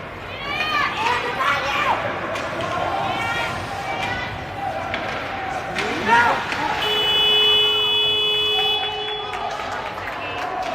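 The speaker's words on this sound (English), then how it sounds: "There was a whistle or a buzzer of some sort that didn't mean anything." A buzzer sounds at a youth ice hockey game in a rink, a steady electronic tone lasting about two seconds amid crowd noise, skate scrapes and a commentator talking.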